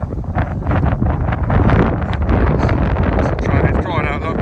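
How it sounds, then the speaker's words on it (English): Strong wind buffets the microphone in a hilltop harvest field, loud, steady and gusting throughout, with a voice speaking over the roar. "God, it's windy up here."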